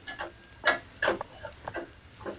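Potatoes fry in a pan over a low flame with soft, intermittent sizzling and stirring scrapes, fairly quiet and close.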